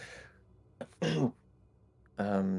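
A few short throat-clearing coughs from a voice imitating the sound during a Grim Hollow tabletop role-playing session, loud and close, with brief pauses between bursts.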